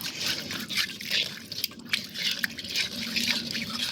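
Fish pieces are swished and rinsed by hand in water inside a sharp-edged bowl, giving a steady run of soft sloshing and splashing with small drips, close and fairly quiet, with no talking.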